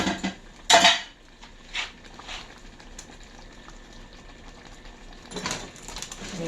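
Pot pie filling scraped and spooned into a casserole dish, with sharp clinks and scrapes of metal on dishware at irregular moments and soft wet shuffling between.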